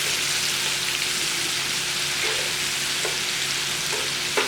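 Beef short ribs fry in a pan in their own oil, giving a steady, dense sizzle that holds close and even throughout, with no talking.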